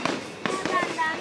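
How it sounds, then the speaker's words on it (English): Fireworks at a New Year show pop in a few quick, sharp bursts at a moderate distance, with a voice talking over them. "Those are fireworks."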